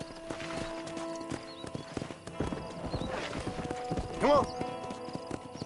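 Horse hooves clip-clopping in Red Dead Redemption, in a steady trotting rhythm with a brief whinny near the end, while someone speaks over it.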